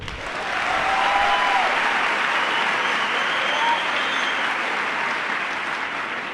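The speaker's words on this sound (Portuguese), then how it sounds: "Quem está me ouvindo pode aplaudir." An audience applauds steadily and loudly, a dense wash of many hands clapping that rises quickly and holds for several seconds with no talk over it.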